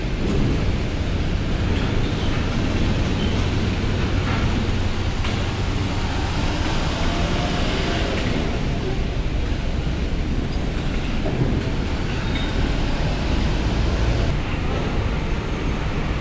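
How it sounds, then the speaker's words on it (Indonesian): Buses pull out of the Bakauheni port at night, giving a steady, loud rumble of engines and road traffic throughout, with occasional hissing air brakes and no clear voices. "Kendaraan bus yang keluar dari Kardec."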